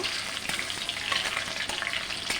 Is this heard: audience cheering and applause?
no